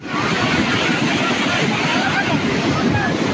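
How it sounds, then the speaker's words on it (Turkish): Floodwater surges loudly and continuously through an overflowing creek bed after heavy rain in Uzunköy, Adıyaman, a dense steady roar of rushing water with no let-up across the whole stretch. "Yoğun yağış sonrası bölgedeki dere yatağının taşmasıyla birlikte sel meydana geldi."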